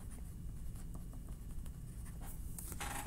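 An art card is signed by hand, with quiet, scratchy pen strokes in quick irregular bursts close to the microphone and a brief louder rustle near the end.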